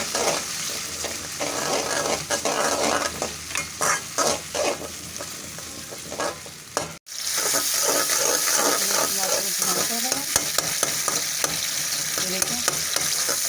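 Chopped tomatoes sizzle and fry steadily in a hot pan for a poppy-seed curry, with stirring scrapes and clatter throughout and a brief pause midway.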